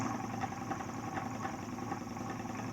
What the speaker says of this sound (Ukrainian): Бачите, як обертається двигун.